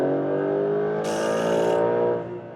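A Porsche 911 GTS 4 Hybrid accelerates hard, its engine note climbing steadily and loudly up close, with a bright whine rising over the rumble midway before the sound eases off at the end.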